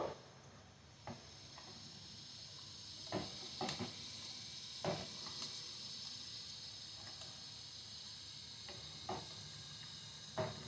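Steady, faint sizzling of tempering spices hitting hot oil for okra sambar, with occasional sharp crackles and pops scattered throughout.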